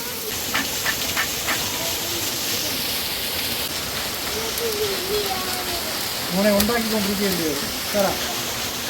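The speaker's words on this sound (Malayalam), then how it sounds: "മഴ തുടങ്ങി മഴ മഴ നല്ല മഴ തുടങ്ങിയിട്ടുണ്ട്" Rain begins falling outdoors, a steady close wash of hissing drops that continues throughout, with people talking faintly under the downpour.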